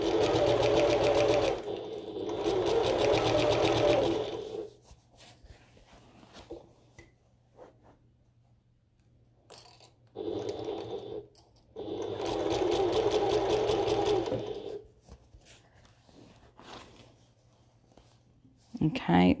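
A sewing machine stitches a bucket tote bag in two steady runs of close, rapid mechanical whirring, with a quiet pause between them where handling sounds and faint talk come through.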